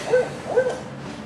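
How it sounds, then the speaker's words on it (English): An electronic bird calendar button plays a recorded owl call: two clear low hoots about half a second apart, close and fairly loud with no talk. "when you press it, you hear bird sounds"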